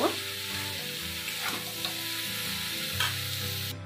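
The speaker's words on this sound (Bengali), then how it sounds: "কেটে রাখা ভুট্টাগুলো আমি এবারে দিয়ে দিলাম, দিয়ে ভালো করে আমি মশলার সঙ্গে মিক্স করে নেব।" Baby corn pieces stir-fried with spices in a pan for a baby corn paneer chili, giving a steady close sizzle with scraping stirs throughout and no talking.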